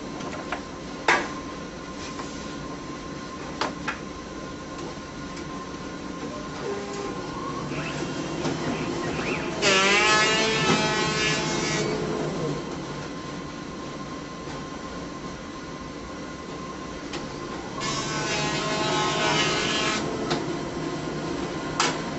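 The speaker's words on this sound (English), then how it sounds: "We're running the PUR unit here, so it's set for 10 seconds of clamp time for each book" A BQ-160 PUR perfect binder runs steadily alongside a CRB-160 cover creaser, giving a continuous mechanical hum with brief clunks and two louder rushing, whirring bursts as books cycle through the clamp.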